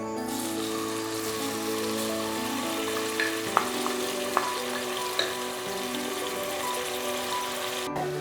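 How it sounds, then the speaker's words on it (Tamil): Onions fry in hot oil in a pan, giving a steady close sizzle throughout with a few small clicks and taps of stirring, without any talking. "எண்ணெய் காயட்டும். வெங்காயம் போட்டுடலாம்."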